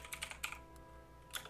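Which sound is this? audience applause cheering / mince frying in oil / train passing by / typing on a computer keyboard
typing on a computer keyboard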